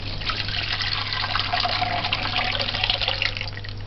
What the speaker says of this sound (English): so now we're going to strain it